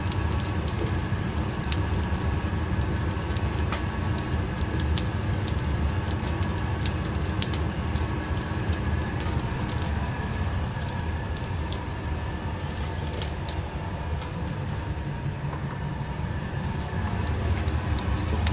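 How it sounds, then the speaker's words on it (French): Asparagus cooks in a pan with oil and butter, giving a steady, dense sizzle and fine crackling spatter that stays even and close for the whole stretch, with no talking. "Placer toutes les asperges dans le fond de la casserole."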